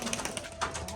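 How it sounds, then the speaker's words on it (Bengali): A pair of pigeons released from a new home loft gives faint, brief cooing in a short, soft burst of bird sound. "তো দাও দেখি, ছেড়ে দাও পায়রা দুটোকে।"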